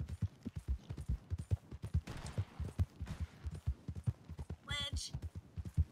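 Rapid, rhythmic hoofbeats pound steadily at a gallop, with a brief burst of noise and a short bright tone partway through.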